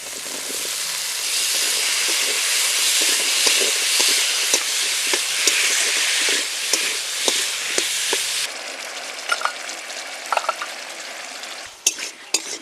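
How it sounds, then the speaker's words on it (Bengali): Potatoes hitting a hot pan of shrimp curry with turmeric set off a loud, steady sizzle; after about eight seconds the frying quietens and sharp stirring scrapes and clinks cut through the hiss. "এবারে দিয়ে দিচ্ছি আলুগুলোকে"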